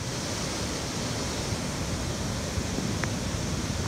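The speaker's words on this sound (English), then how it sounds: "at high tide all the water from the Atlantic side comes pouring over the island" Atlantic seawater pours at high tide through the Glass Window rock cut on Eleuthera, a dense steady roar of rushing surf that holds even and loud throughout.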